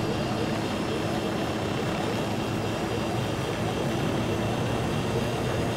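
A helicopter flying in the Ghost Recon Wildlands video game gives a steady, loud broadband engine and rotor drone that runs unbroken for the whole stretch.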